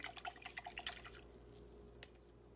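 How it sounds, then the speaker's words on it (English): A paintbrush is swished and tapped in a cup of paint water to rinse off gray paint, giving a quick run of close, light watery splashes and drips that give way to a quiet wet hiss. "I'm going to take my brush into the paint water, get off that gray."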